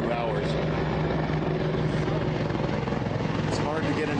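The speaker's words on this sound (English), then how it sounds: "More medevac helicopters poured into the valley." Medevac helicopters fly over a valley during a firefight, a steady loud rotor and engine drone holding throughout with no pause.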